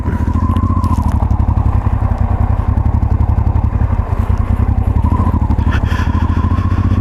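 A 1989 Honda Transalp XL600V V-twin motorcycle turning around on a dirt road, its engine thrumming in a steady, loud rhythmic putter close by, with slight wind and clatter.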